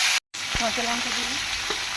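Green chillies dropped into hot oil with bay leaves and five-spice seeds, giving a steady close sizzle and crackle after a brief silent gap, with faint stirring and some low background tones.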